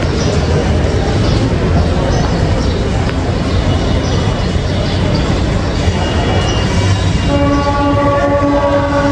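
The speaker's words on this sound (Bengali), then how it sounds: "এই যে একটা ট্রেন দেখা যাচ্ছে।" A train at Khulna railway station rumbles loudly and continuously close by, dense low-pitched rolling noise filling the platform, with a sustained horn-like tone rising near the end.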